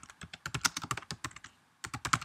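Quick bursts of clicking keys on a computer keyboard, close and crisp, in two short runs of typing separated by a brief pause.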